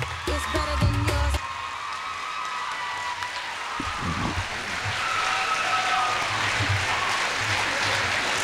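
An audience at a 2005 community high school graduation ceremony applauds, a dense wash of clapping that swells and holds steady, with a few whoops and some background voices.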